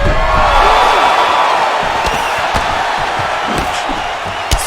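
A large video game crowd in EA Sports UFC 4 roars and murmurs continuously, with scattered sharp thuds of strikes and cheers rising over the din, loud and reverberant.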